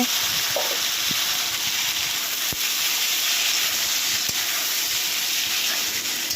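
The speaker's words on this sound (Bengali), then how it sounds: "টমেটো কাঁচা লঙ্কা এখন তেলের মধ্যে দেওয়া হবে" Tomatoes and green chilies fry in hot oil in a home kitchen for tomato chutney, giving a loud, steady sizzle and hiss that runs the whole time. A few soft knocks are heard under it, and no one talks.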